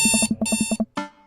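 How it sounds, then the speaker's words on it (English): Alarm clock ringing in the video game Dream Daddy: two loud rapid bursts of shrill electronic beeps, each a quick run of pulses, then a third shorter burst, heard alone and close. "I jolt awake to the sound of my alarm."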